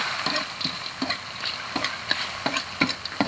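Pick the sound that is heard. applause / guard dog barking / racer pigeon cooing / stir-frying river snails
stir-frying river snails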